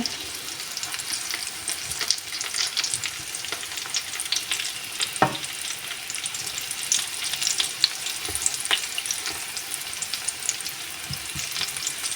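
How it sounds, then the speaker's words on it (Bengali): Pointed gourd (potol) pieces frying in a pan over low heat, a soft, steady sizzle with occasional faint pops and clinks, gentle and continuous throughout. "লো আঁচে ভেজে নিতে হবে"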